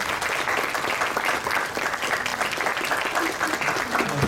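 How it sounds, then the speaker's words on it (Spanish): Loud, dense applause from a conference audience welcoming an economist to the stage, steady and sustained throughout with no break. "Démosle un fuerte aplauso"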